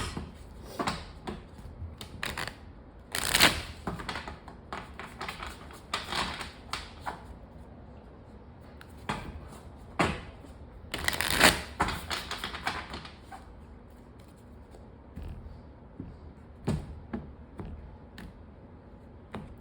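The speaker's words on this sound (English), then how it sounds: "one more shuffle here." Repeated tarot card shuffling up close, with a couple of louder riffles amid scattered soft taps and rustles in a quiet room.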